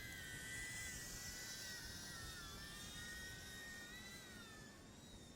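A DJI Mini 3 Pro or Mini 4 Pro drone flying back to its start point, a steady high-pitched propeller whine heard alone at moderate distance, slowly drifting in pitch.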